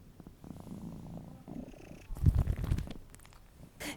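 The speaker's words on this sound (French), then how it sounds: "Est-ce que on l'entend ronronner?" A pet cat purring close up, a faint low rumbling that swells briefly louder midway, with quiet voices in the background.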